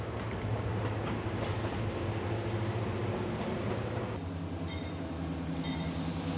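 A train rumbles loudly and steadily on the rails while arriving at Divisadero Station in Copper Canyon, Mexico, with a thin high squeal rising over the noise near the end as it slows.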